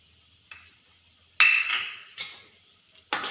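A spoon clinks and scrapes against a metal bowl while masala ingredients for dosa are stirred together, a handful of separate bright strikes spread irregularly with quiet gaps between, close and fairly loud.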